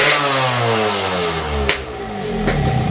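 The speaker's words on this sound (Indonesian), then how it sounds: "Ini motor kalau ditahan aja gasnya setengah gas ya, suaranya nggak bersih gitu" Motorcycle engine revved on the throttle, pitch sweeping up and down through several rising and falling revs with a sharp blip midway, close and loud with no talk.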